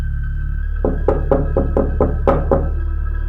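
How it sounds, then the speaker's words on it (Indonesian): A door is knocked seven times in a quick, even series of sharp raps, loud and close against a quiet low hum. "Pintu itu terketuk lagi. Kali ini lebih keras."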